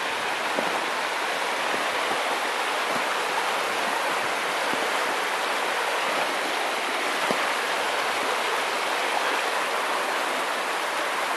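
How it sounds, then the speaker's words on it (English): Steady creek water rushing where two creeks join along Minister Creek in winter, a continuous broadband wash of flowing water heard alone at close range without pause. "two creeks come together."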